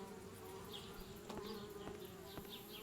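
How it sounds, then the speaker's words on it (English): Bees buzz around a treehouse in a video game, a soft steady drone with fainter whirring passes drifting in and out over quiet ambient background, a few light clicks scattered through. "Darn bees, trying to move into our treehouse."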